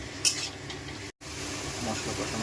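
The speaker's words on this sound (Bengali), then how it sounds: "পেঁয়াজ ভাজার কাজ চলছে" Onions frying in a kadai with steady sizzle and scraping stirs, a brief clink of a utensil near the start and a short gap of silence midway.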